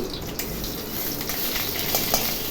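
Spices fry lightly in a pan for a masoor dal with a continuous, even sizzle, joined by a few soft utensil clinks toward the end.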